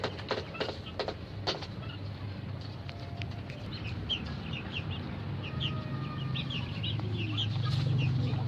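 Quails kept on a farm, a white male and female among them, chirp and cluck in short, scattered calls that run steadily over a continuous low hum of farm background noise.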